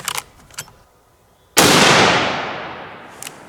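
A single loud .30-30 rifle shot firing a Hornady 150-grain round-nose handload at an outdoor range, a sharp crack followed by a long rolling echo that slowly fades, with faint bangs from other shooters before it.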